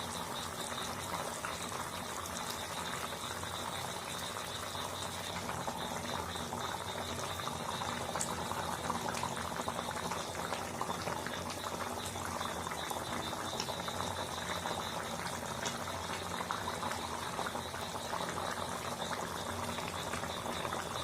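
A pot of chicken curry boils fast, a continuous close bubbling and popping that stays steady and fairly quiet throughout.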